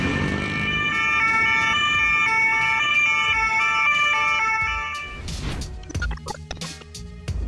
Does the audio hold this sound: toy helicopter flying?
no